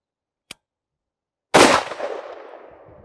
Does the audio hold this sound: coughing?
no